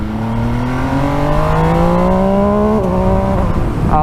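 An MV Agusta Dragster 800 RR motorcycle revs hard and accelerates loudly up through the rev range, its pitch climbing steadily before dropping sharply at a quick gearshift and rising again.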